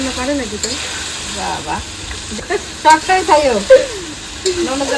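Chicken curry sizzles in a pan on a gas stove, with steady frying and the scrape of stirring. A person speaks intermittently over the cooking.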